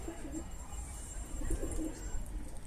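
A pigeon coos softly in the background, low repeated murmuring calls over a quiet ambient hum.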